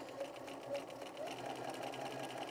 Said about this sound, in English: I'm just going to do a straight stitch